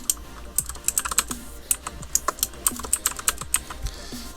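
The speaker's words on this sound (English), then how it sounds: "5 times I type Messi" Fast typing on a computer keyboard, a word entered repeatedly, giving crisp, close clicks in quick irregular bursts with brief pauses, alone without talk.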